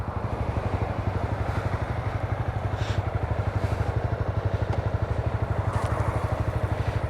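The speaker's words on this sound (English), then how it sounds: "Doesn't feel like a 300cc single cylinder motorcycle at all" A Honda 300cc single-cylinder motorcycle engine runs steadily up close, with a fast, even low thump and a mechanical clatter throughout and no talking.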